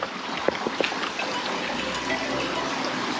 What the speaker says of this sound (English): In the bushes, you could hear water streaming down.